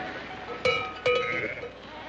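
Sheep bleat twice in quick succession, fairly close and moderately loud, over a faint steady outdoor background; the flock is grazing on a summer pasture and includes black sheep.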